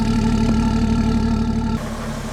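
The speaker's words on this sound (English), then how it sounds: "we're about to go ahead and get some sound clips with the intake on the X5 diesel you see behind me" BMW X5 diesel with a custom low-cost intake idling up close, a steady low droning rumble with a constant tonal hum that drops slightly in level near the end.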